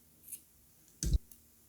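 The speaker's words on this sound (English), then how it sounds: "And then you can just trim these off." Scissors snipping off crochet yarn ends on a small elf ornament, heard as two quick, quiet snips close by in an otherwise hushed room, with no talking.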